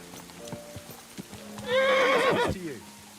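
A horse in the video game Kingdom Come Deliverance 2 lets out a loud, quavering whinny. Hooves clip-clop softly before the neigh and light rain patters behind it.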